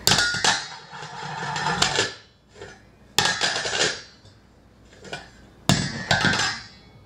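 A small child bangs a cymbal in bursts of loud metallic crashes, each ringing and fading before the next clattering round of hits, close and harsh with no talking.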